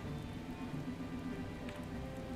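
Steady rain falls in the video game Atelier Ryza, a soft, even hiss of drops on surfaces, constant and fairly quiet under a low game hum.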